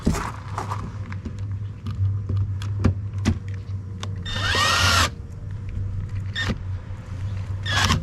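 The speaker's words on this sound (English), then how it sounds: "Drill's on low speed." Cordless drill at low speed with a light clutch setting, driving screws while installing a keyless entry door lock on a 2021 Aspen Trail 1950BH RV, heard as short intermittent whirring bursts over a steady low hum, plus one longer burst.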